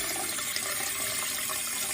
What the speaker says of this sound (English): if I put this on, this gives the nozzles a little cleaning